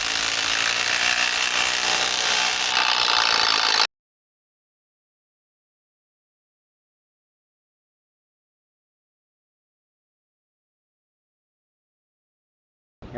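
A power tool runs in one continuous, close burst for about four seconds, giving the final tightening to 18 mm front shock bolts on a 2020 Ford F350 Tremor. Long silence follows.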